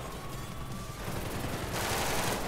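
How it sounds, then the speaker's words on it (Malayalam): Army gunfire erupts in a military base video game, a dense, fast burst of shots that grows louder and harsher toward the end. "ആർമിക്കാരെല്ലാം നേരെ നേരെ വെടിവെക്കുകയാണ് ഗൈസ്."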